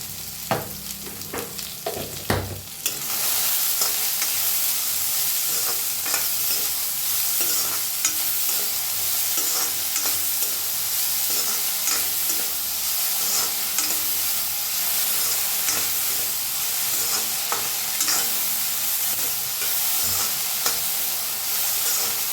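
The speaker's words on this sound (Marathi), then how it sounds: "मीठ टाकून भाजूया पुन्हा।" Fresh coriander seeds roasting with salt in a hot pan, a few sharp scrapes at first, then a loud, continuous sizzling crackle with scattered stirring ticks, near and uninterrupted by speech.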